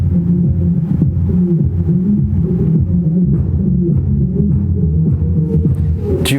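DJ music playing with the mids and highs cut off, leaving only a muffled, throbbing bass line and thumping low beats, steady and loud with nothing bright on top.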